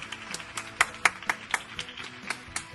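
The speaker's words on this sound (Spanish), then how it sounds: "Hoy le he pedido ayuda a mis vecinos, que son muy majos, para dedicaros hoy este aplauso a vosotros." Neighbours clap from their homes, a sparse, uneven patter of separate claps at middling distance with a few sharp nearer hits.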